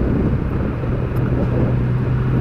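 A 2021 Triumph Speed Triple 1200 RS motorcycle cruises smoothly in third gear under 3,000 RPM, a steady low engine drone blended with constant wind rush.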